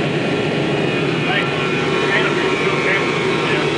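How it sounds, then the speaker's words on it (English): A propeller aircraft's engines and spinning outer prop drone steadily and loudly during landing, a constant broadband roar heard from inside or close to the plane, with no pauses. "That outer prop is still spinning."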